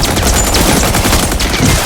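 Gunfire in the video game Batman: Arkham Origins, a dense, loud, continuous burst of rapid shots filling the whole short stretch.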